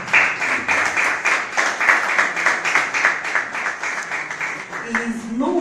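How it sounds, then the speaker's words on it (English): Audience clapping at a university alumni fundraising gathering as a guest is welcomed to the high table, fairly steady applause from a crowd that tapers slightly near the end as a voice begins. "well, let's start clapping"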